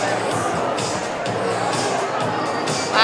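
A crowd gathers and fills a school gym before a Beauty and the Beast performance at a St. Baldrick's event, a dense murmur of many voices with shuffling and occasional louder calls, steady throughout.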